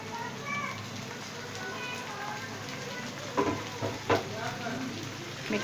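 Mutton and spinach curry fries in ghee with a steady close sizzle, broken by a few louder stirring scrapes toward the end.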